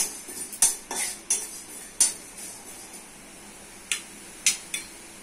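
Dry chillies, coriander seeds and cumin dry-roasted in a pan as spice mix for a jackfruit curry, with a utensil striking the metal in sporadic sharp clinks, about seven spread over a quiet background.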